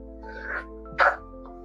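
A single short sneeze-like burst, close and abrupt, after a softer breathy sound, over a low steady hum.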